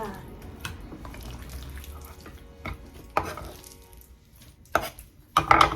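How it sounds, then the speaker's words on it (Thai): A knife chops chili peppers on a board in a kitchen, a few sharp scattered cuts standing out over a quiet background of running tap water and faint sink clatter. "เดี๋ยวเราหั่นตัวนี้นะคะ หั่นพริกนะคะ เป็นพริกชี้ฟ้า"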